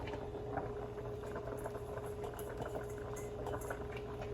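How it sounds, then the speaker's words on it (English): Pig feet with onions simmering in a pot over medium-low heat, a steady continuous bubbling and gurgling boil that holds at an even level throughout, close by, with no talking. "medium to low heat in between there, that's pretty much what we need it to simmer"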